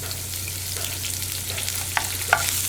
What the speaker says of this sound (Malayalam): ഇനി നമുക്കിതിലേക്ക് സവോള ചേർക്കാം.